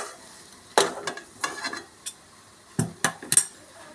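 A spoon stirs a breakfast vegetable mixture in a pan, giving a scattered series of close scrapes and metallic clinks against a faint background sizzle.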